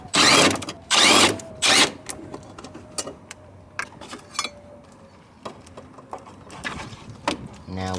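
Several 10mm bolts are loosened from the fuel pump cover in the trunk of an R32 Skyline, with three loud bursts of a power tool followed by scattered metallic clicks and clinks.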